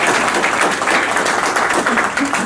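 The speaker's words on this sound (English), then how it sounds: "Let's give them a round of applause" A round of applause from a small group, a dense wash of clapping that holds steady and fairly close throughout, with no speech over it.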